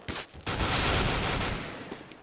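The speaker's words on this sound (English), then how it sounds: "so much gunfire" Rapid gunfire in a Counter-Strike match on de_inferno during a StarLadder esports game, a loud dense volley of shots bursting after a couple of sharp opening cracks, then tapering slightly.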